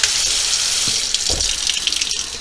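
Warm water sprays steadily down onto a diecast model car, a loud continuous hiss of tap water that shifts slightly as the stream moves across the metal body.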